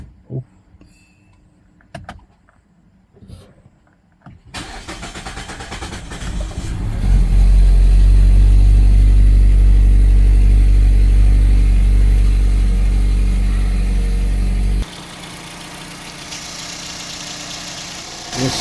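After a few faint clicks and handling noises, a Mazda CX-5 engine, just back together after a valve cover gasket and oil seal replacement, cranks and fires into a loud, rumbling idle, then settles to a quieter steady run.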